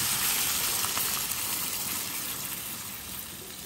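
About two cups of water poured into a pan of frying spices, salt, dried red chili and cumin for a tomato potato curry, a loud rushing gush and sizzle that gradually eases.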